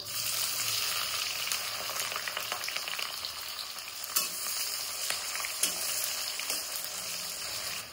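Whole spices and onion frying in a pan, a loud, steady sizzle with occasional sharper crackles and stirring scrapes, close up and without talk.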